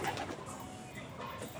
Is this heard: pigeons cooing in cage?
yes